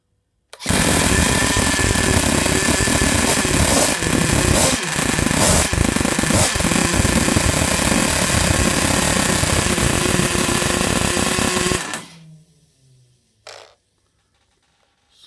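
A Traxxas Nitro Vee RC car's nitro engine, run with no exhaust fitted, fires up and screams loudly and steadily for about eleven seconds with a harsh, buzzing rasp, then cuts off abruptly into near silence with a brief faint knock.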